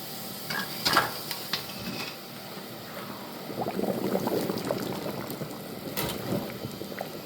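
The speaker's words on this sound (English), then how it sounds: "It's boiling now, and so now we start the timer for 15 minutes." Water bubbles and rumbles at a rolling boil in a canning pot, with faint clinks and ticks scattered over the steady churning.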